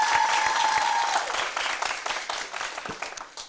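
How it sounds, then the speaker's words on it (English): An audience at a school debate competition claps in a dense, sustained burst that slowly fades; a faint tonal hum lingers beneath the opening second. "Please give them a round of applause"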